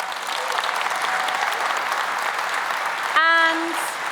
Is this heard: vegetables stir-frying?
no